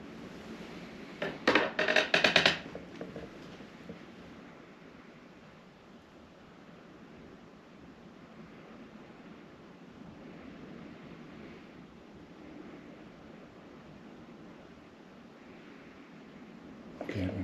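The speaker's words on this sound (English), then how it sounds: "You can hear the wind," Strong wind blowing outside a castle at Halloween, a steady broadband rush with a few louder gusts and buffeting near the start, continuous and fairly loud with no talk.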